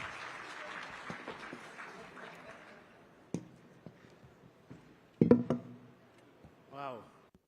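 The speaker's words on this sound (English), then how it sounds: "A round of applause, please." A conference crowd at an ideas festival in Botswana gives faint applause to welcome a panel, fading quickly into someone speaking, with a few sharp knocks and handling noises afterward.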